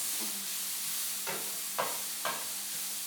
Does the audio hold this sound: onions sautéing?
yes